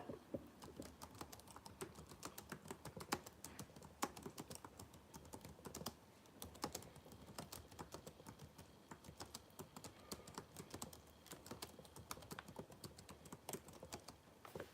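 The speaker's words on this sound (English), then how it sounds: "See all that typing there?" Rapid, continuous clicking of computer keys typed steadily for the whole stretch, close and fairly quiet, with no voices.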